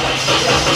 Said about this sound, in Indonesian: Kita coba hidupkan mesin.